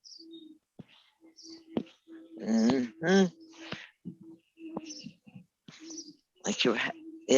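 Birds call and coo outdoors in short, scattered phrases, fairly close, with pauses between, alongside brief spoken voice.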